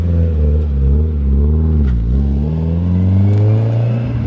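A Nissan 240SX engine idles loudly and close while warming up, its rumbling note rising and dipping unevenly before settling into a steadier, higher idle.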